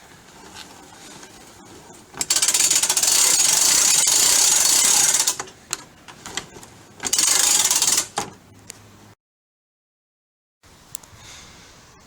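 The lift mechanism on a 1997 Coleman Grand Touring camper is cranked, producing two long loud bursts of rapid metallic ratcheting separated by quieter clicks and handling noises, then a silent gap and faint rustling.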